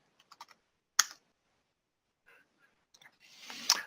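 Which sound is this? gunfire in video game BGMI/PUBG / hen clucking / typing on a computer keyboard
typing on a computer keyboard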